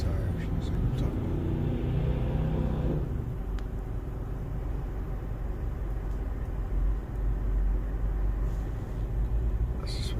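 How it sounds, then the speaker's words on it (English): A car burning its tires on a street in Hampstead in the morning, a loud continuous engine roar and rumble that fills the whole stretch, with people talking over it. "This guy up there is like burning his tires."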